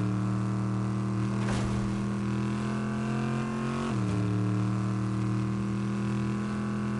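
A video-game car in Fortnite with a big double exhaust idles with a deep, steady engine drone, rising briefly in a couple of revs before settling back to a loud, continuous rumble.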